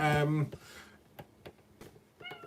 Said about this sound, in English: I've got a very hungry cat at the moment.